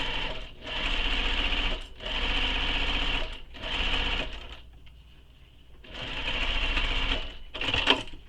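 Sewing machine basting a top edge with a long stitch, running in several steady whirring bursts of about a second each, with short pauses between, close and loud.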